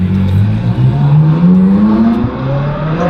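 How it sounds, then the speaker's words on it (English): A Ferrari Purosangue SUV revs its engine as it pulls away, giving a loud, close, throaty roar that rises and falls in pitch for a few seconds with no talking. "What a beautiful sounding car, man."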